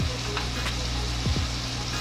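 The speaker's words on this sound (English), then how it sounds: "I'm gonna throw in my onions, celery, and carrots now into the bacon fat." Onions, celery and carrots fry in bacon fat with a little grapeseed oil for a seafood chowder, a steady close sizzle with a couple of brief scraping stirs and no talk.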